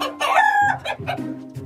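Chickens in a coop cluck loudly and close, one drawn-out squawking call followed by a series of shorter clucks, with no talking.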